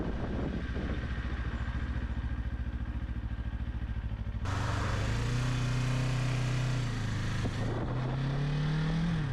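Kawasaki Ninja 500 motorcycle engine running steadily with a throbbing, slightly clattering note that rises in pitch partway through as revs climb, loud and close with no talk.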